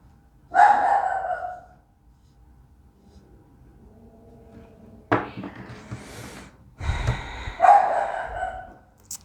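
A dog barks indoors in a few separate loud bursts, one early and a cluster later, with quiet gaps between them.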